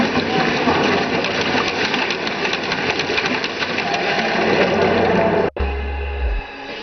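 A homemade pedal-powered water pump, built for about 8,000 rupees and drawing water from 30–40 feet deep, clatters in a steady, fast mechanical rhythm close by, then cuts off abruptly near the end, leaving a low hum.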